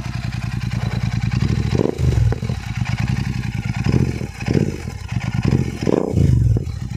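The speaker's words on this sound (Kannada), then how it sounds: "ಇನ್ನು ಸೌಂಡ್ ಕೇಳಿಸ್ಕೊಬಿಡಿ ಗಾಡಿದು. Parallel twin exhaust sound." Royal Enfield Continental GT 650 parallel twin exhaust, a close, loud, throbbing burble with a steady pulsing beat, rising in a few brief revs and then settling back to idle, no voices.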